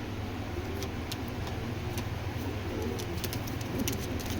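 Foreign-bloodline racer pigeons coo in low, rolling repeated calls over a constant background hum, with sharp little ticks scattered throughout.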